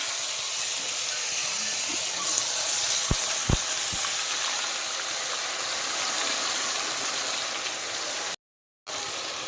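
Ginger-garlic paste and onion paste fry in a pan, giving a steady broadband sizzle and hiss that runs almost throughout, with a few faint clinks and a brief dropout near the end.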